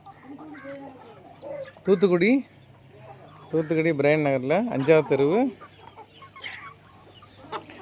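Free-range country chickens being sold from a house in Tuticorin cluck and squawk in two loud bursts close by, with someone talking under and between the calls.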